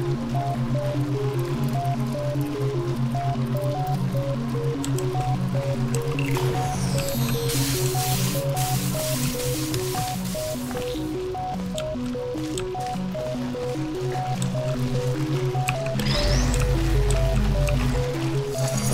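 Water squishes, drips and sprays in a Portal 2 puzzle chamber, with repeating tonal game sounds and a low hum throughout, plus a brief louder burst near the end.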